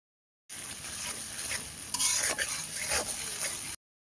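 Mustard paste frying in mustard oil, a steady close sizzle lasting about three seconds with a few brief scraping stirs rising over it before it cuts off.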